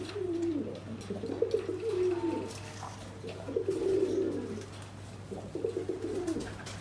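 A male pigeon in a pigeon loft coos close by in repeated throaty, rhythmic bursts with brief pauses between calls.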